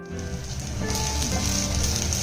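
Fenugreek (methi) leaves fry in a hot pan with a steady, close sizzle that builds slightly and holds throughout, with no voices.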